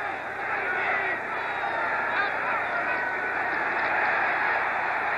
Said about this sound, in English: The crowd comes alive on second and 17.